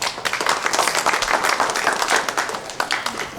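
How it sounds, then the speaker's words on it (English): An audience at an AI investment summit panel claps and applauds to welcome a venture capital partner, a dense, steady burst of many hands lasting a few seconds with no talk over it. "Give her a round of applause."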